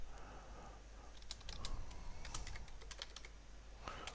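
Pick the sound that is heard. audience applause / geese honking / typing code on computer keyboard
typing code on computer keyboard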